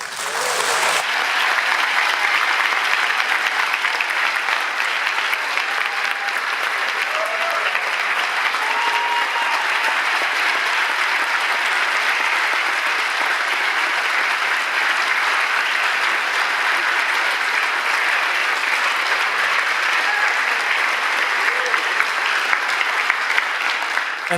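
Sustained audience applause fills a theatre at a mental-health storytelling show in Orlando, steady dense clapping that stays loud and even for the whole stretch after a speaker's closing words.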